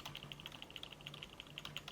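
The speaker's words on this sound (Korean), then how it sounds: "키보드 방향키 아래쪽을 눌러" Rapid, even clicks of computer keyboard keys being pressed, like repeated arrow-key taps while setting DDR5 memory options in the BIOS of a Gigabyte B760M Aorus Elite X AX motherboard; close and crisp, no talk.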